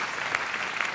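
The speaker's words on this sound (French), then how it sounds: "on peut les applaudir" Audience applause at a French conference hall, a brief, moderately distant patter of many hands clapping evenly, with a couple of sharper claps standing out.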